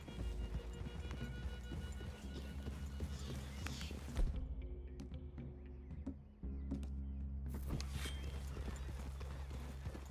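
Rhythmic clip-clop of horse hooves at a walking pace in the video game Red Dead Redemption 2, moderately close, with a low ambient rumble and faint outdoor background.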